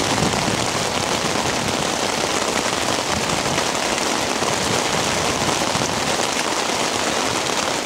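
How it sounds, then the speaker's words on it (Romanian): Heavy rain pours steadily onto a fishing spot at a pond, a dense, loud, unbroken hiss of drops drumming on surfaces close by, with no pauses and no one talking. "e ploaia puternică pe mine"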